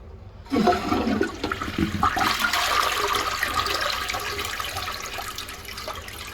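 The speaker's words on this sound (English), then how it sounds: "Alright, and then we gotta flush it one more time." A toilet flushes with a sudden loud rush of water, then settles into a steady swirling drain and refill, heard up close with no talking.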